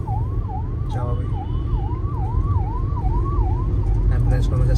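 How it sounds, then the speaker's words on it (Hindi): An ambulance siren on a road, wailing in a steady rising and falling cycle, loud and close, over the continuous hum of car and traffic noise. "एम्बुलेंस आ रही है, ज़रा साइड दे देते हैं पहले"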